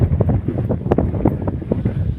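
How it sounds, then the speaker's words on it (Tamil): Gusty wind buffeting the microphone on a hilltop at a Shiva temple, rumbling and loud for a couple of seconds with no voices. "காற்று அருமையாக அடிக்குது மேலே."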